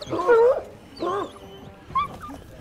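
A dog whimpers in three short, high whiny bursts, close by, with pauses between.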